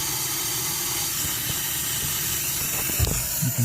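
Water hisses steadily as a sprinkler line is slowly charged from a valve box during repair of a leaking sprinkler valve, a continuous close hiss with a few soft knocks near the end.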